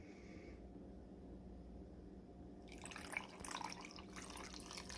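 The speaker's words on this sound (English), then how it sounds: "I made some really disgusting water here with some dirt out of my backyard, and I'm gonna go ahead and put it in my filter." Dirty backyard water, muddy with soil, is poured into a homemade water filter, a faint liquid splashing and trickling that grows louder in the final seconds over a quiet room hum.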